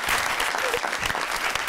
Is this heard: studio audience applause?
yes